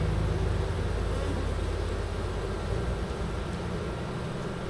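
Honeybees in an opened hive during a queen introduction make a steady, dense buzz, loud and close, drowning out all else throughout.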